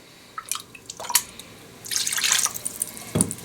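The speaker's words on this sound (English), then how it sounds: "I'm just going to use a little bit of water that I used to rinse the cans out with" A little can-rinse water poured into a pan of golden mushroom chicken, heard as scattered drips and a short splashing pour midway, then one last splash, close and fairly quiet.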